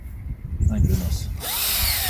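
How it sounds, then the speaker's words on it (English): A hand drill fitted with a 5/16 inch bit bores into a hardwood log outdoors, a whining motor rising to a steady grinding drone after a brief spoken moment. "5/16 inch bit in a hand drill."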